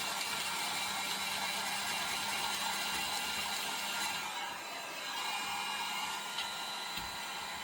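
A heat tool blows steadily to dry stamped ink on vellum, a continuous loud whooshing hiss that dips briefly midway, with no talking.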